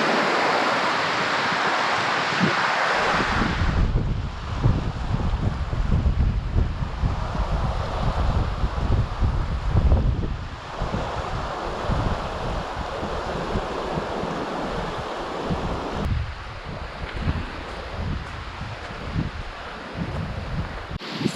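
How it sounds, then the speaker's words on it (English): Waves roll steadily onto a lake shore, a continuous broadband wash of surf with wind buffeting the microphone, loud and close throughout with no talking. "The water's so blue. It's got waves,"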